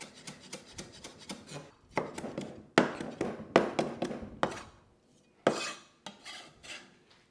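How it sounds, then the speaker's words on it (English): A kitchen tool bashing woody lemongrass stalks, a series of sharp thuds and knocks in irregular clusters with brief pauses between, close and clear with no speech. "Lemongrass can be quite woody, so you do want to bash it well before slicing into it."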